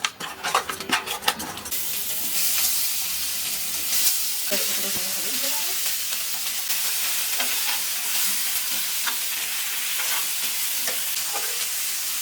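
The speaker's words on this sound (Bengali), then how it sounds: "মাছগুলোকে সুন্দর করে ভেজে নিতে হবে।" Fish coated in salt and turmeric fry in hot oil in a pan, giving a loud, steady, close sizzle. Clattering stirring noises come early on.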